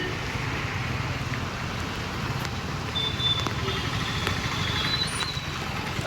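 Heavy monsoon rain pours at Bhavnath in Junagadh, a steady broadband hiss with scattered drip and splash ticks, with faint passing traffic beneath and no clear voices.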